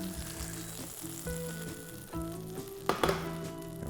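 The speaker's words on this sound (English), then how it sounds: "the bubbling of the butter you hear around 100, so that we're getting to 90 and we're starting to hear that is actually very normal" Butter bubbles as it heats in a frying pan, a soft, quiet sizzle with a steady hiss and a few small pops and crackles.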